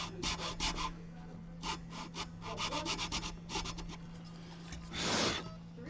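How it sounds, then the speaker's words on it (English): A guitar nut slot being filed lower on a Tune-O-Matic-equipped guitar to fit a new string gauge, heard as short repeated rasping strokes in bursts, close and moderately loud, with a steady low hum beneath. "We will begin lowering the nut slot."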